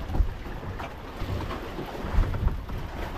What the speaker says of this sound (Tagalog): Nadadala yung bangka.